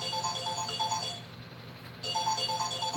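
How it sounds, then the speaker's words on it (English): A phone's ringtone plays an incoming-call melody, a loud, close, repeating electronic pattern that pauses briefly midway and then resumes. "Because that's a phone call."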